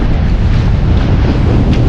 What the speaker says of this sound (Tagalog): lakas ng hangin talaga